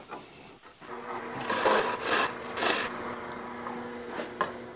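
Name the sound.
woodturning cleanup cut on a goblet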